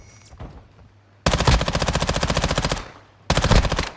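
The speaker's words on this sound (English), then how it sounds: "I don't know where I'm getting shot from." Two loud, close bursts of rapid automatic gunfire rattle out in Call of Duty Modern Warfare II, the first long and steady, the second shorter, separated by a near-silent pause.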